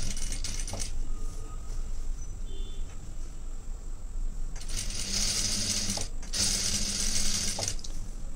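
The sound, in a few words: sewing machine stitching fabric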